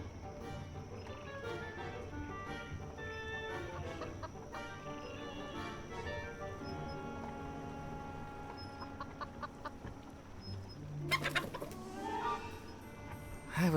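A curious chicken clucks repeatedly in a steady, chattering series over a quiet background, ending in a louder, sharper squawk near the close.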